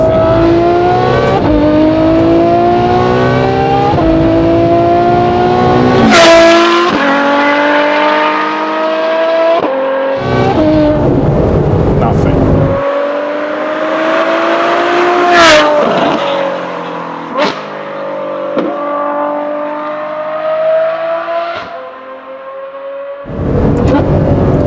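Novitec Ferrari F12 N-Largo R V12 with Novitec exhaust revving hard outdoors in sunny weather, loud and close, with rising harmonic sweeps, sharp throttle blips and brief drops to near silence between pulls.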